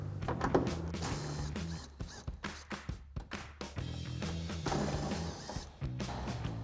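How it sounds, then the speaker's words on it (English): An impact driver with an 8mm socket removes fender liner screws on a RAM 1500 truck, giving loud buzzing bursts broken by rapid hammering rattles, close-up and without speech. "So we've got our 8mm socket on our impact, and we'll take these all out and then pull our fender liner out."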